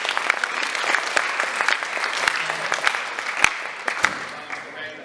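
Sustained applause from a high school audience in a school gathering, dense clapping with scattered sharper claps, steady and fairly loud throughout.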